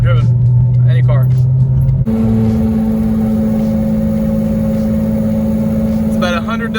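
Loud, steady engine roar fills the cabin of an Audi 90 Quattro race car, a constant drone with a strong low hum that shifts pitch partway through, close and enveloping throughout.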